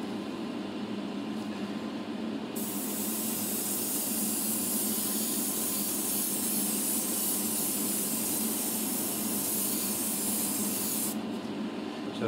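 An Iwata airbrush sprays paint inside a spray booth, a steady close hiss that holds evenly for several seconds with the booth's fan noise running underneath throughout.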